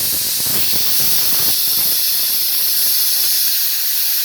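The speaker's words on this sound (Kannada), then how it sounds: "ಈಗ ನಾವು 2 ವಿಷಲ್ ಕೂಗಿಸ್ಕೊಳ್ತೀವಿ." A pressure cooker making ghee rice hisses out steam in a continuous loud, close, sharp rush that holds steady for several seconds.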